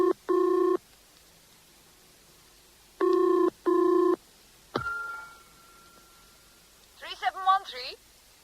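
A telephone rings twice in a radio drama, each time with a pair of short electronic trills. A handset clatters and a dial tone follows, then a voice answers the call.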